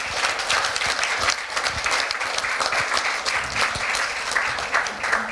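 An audience at a solar happy hour and report release breaks into sustained, dense applause, a loud, steady clatter of many hands that carries on evenly without speech.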